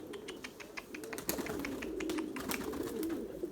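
A male Erzurum white pigeon coos in low, repeated rolling phrases while searching for a female, close and steady over a bed of faint clicking and background noise.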